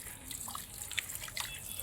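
Running water pours steadily as tiny wolffia plants are rinsed clean at a catfish farm, a constant rushing wash dotted with faint drips and splashes.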